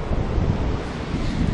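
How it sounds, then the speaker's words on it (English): Storm wind roars across the microphone at Lantic Bay while huge waves crash and surge beneath it, a loud, continuous rumbling wash with no talking. "The waves are so high, you can't actually see the horizon."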